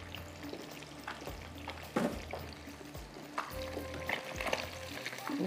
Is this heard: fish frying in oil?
yes